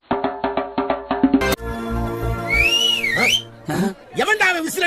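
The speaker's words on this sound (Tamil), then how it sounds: "எவன்டா அவன் விசில் அடிச்சது?" Loud whistling from a person, first in a series of short rhythmic toots, then rising and falling tonal swoops mixed with other sounds and voices.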